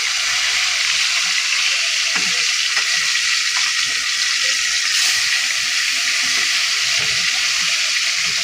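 Rohu fish fries in mustard oil in a wok, giving a dense, continuous close sizzle with a few soft clinks and stirring sounds, loud and steady with no speech.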